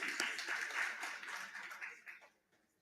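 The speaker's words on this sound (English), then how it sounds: "He deserves a round of applause." A conference audience gives a short burst of applause, quiet and distant-sounding, thinning out and fading to silence within a couple of seconds.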